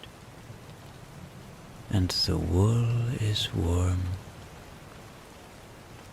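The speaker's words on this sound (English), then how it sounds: "the sound of the rain is the only sound left" Rain falls steadily as a soft, constant hiss throughout, with a calm voice speaking briefly over it in the middle.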